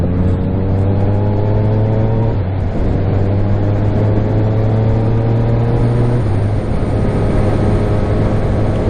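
Yamaha XSR900 motorcycle engine under way on a rough, potholed road, a loud steady drone that rises in pitch through the gears, with a brief dip near two seconds and another around six seconds as it shifts.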